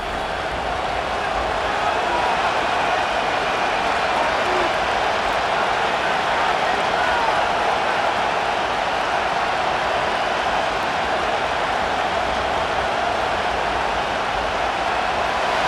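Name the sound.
stadium crowd noise in Madden NFL 25 video game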